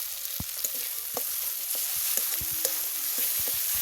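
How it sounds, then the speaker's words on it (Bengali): Cashew spice paste fries in oil in a pan as sour yogurt goes in, giving a steady close sizzle with intermittent stirring scrapes and soft knocks throughout, no talking. "এবার টক দইটা দিয়ে দেবো"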